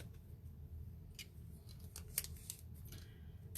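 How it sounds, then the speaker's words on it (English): Metal craft snips cut through a length of ribbon while decorating a Christmas project, giving a few short, crisp snips close by against a quiet room, with no talking. "And cut that with my snips."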